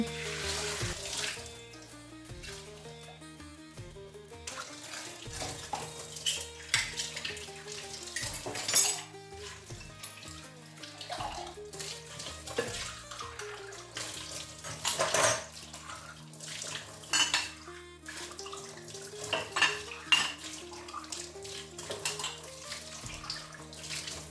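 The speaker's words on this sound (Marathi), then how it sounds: "काही भांडी घासायची होती तीसुद्धा घासून घेतली" A tap runs steadily while dishes and cutlery clatter and clink, with repeated scrubbing and rinsing sounds over a quiet musical background.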